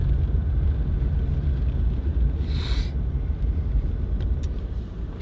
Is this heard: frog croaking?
no